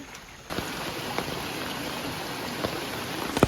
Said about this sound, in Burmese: မိုးရွာနေတော့